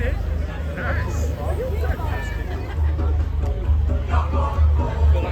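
Dense crowd babble fills an outdoor fair in Rotherham, a steady wash of many overlapping voices with a low rumble underneath and no single speaker standing out.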